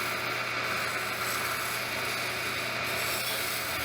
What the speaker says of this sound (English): Okay, this is a scraper.